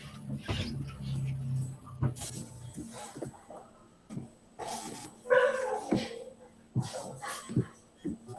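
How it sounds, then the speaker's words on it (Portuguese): A pet dog barks and whimpers in short, irregular bursts close by, with a thin whining cry rising midway and scattered thumps and rustling in between. "Ó, Dylan, meu cachorro."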